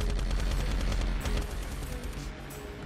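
Gatling guns and M240 machine guns fire in a battle scene from the war film Act of Valor, a dense, loud continuous barrage of rapid gunfire with booming impacts throughout.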